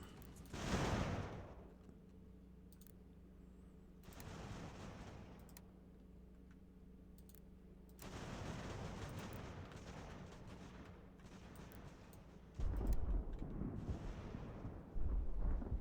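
Artillery fire in the strategy game Ultimate General: American Revolution: deep, rumbling cannon booms roll out in several long, heavy bursts over a low continuous battlefield drone, with no talking.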